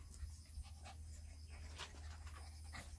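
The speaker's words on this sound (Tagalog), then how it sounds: "Mga Shih Tzu na alaga ko" A small Shih Tzu pants quietly in quick, rhythmic breaths, close by, with a low steady hum underneath.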